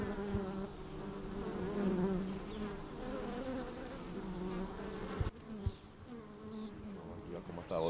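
Honeybees swarm and buzz around an opened beehive kept by a beekeeper, a steady dense hum throughout with a few faint knocks and handling sounds near the end.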